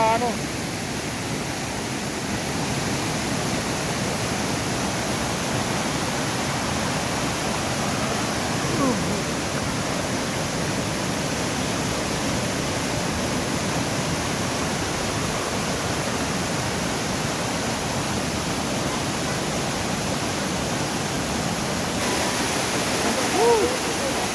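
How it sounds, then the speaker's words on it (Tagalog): Maarat waterfall in San Mateo, Rizal gives off a loud, unbroken roar of falling water that stays dense and constant from start to finish. "ito yung pinakamagandang falls ngayon mga bayan na nakita namin, Ito sa San Mateo, Rizal"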